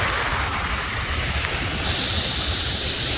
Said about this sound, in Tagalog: Ayan po kalakas ang alon ngayon dito.